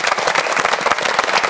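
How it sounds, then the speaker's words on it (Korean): An indoor audience applauds at a Korean televised ceremony, a dense, even patter of many hands clapping continuously for a brief moment. "박수를 한번 청해보도록 하겠습니다"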